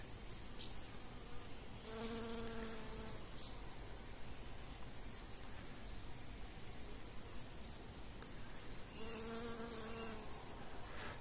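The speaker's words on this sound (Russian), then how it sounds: "Так вот пчелка нектар берет в поцели." Honeybees buzz around phacelia flowers beside the hives at an apiary on a drizzly June day. Faint steady humming is heard, with two closer, louder fly-bys near the start and end.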